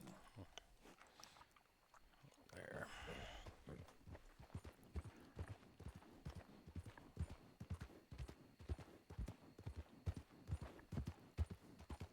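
Horse hooves clip-clopping in an 1881 frontier setting, a steady close rhythmic clatter of many hoofbeats that gets louder and more regular after a brief pause, with faint talk in places.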